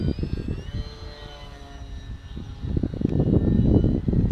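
An FT P40 foam model airplane flies past with a steady, droning electric motor whine, its pitch sliding slowly downward as it moves away, then rising again and growing louder as it comes back.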